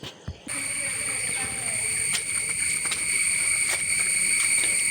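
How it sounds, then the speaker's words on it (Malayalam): A dense, shrill chorus of crickets drones continuously at high pitch, loud and unbroken after a brief quieter start. "ഭയങ്കരമായിട്ട് ചീവീട് കരയുന്ന ഒച്ച ഭയങ്കര ബഹളമാണ് അന്തരീക്ഷത്തിൽ"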